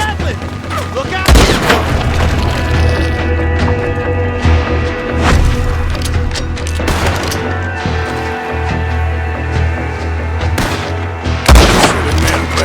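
Gatling gun fire in Red Dead Redemption 2 during a gunfight defending a house, heard as heavy gunfire bursts and booms spread across the clip, with shouted voices and game sounds mixed in.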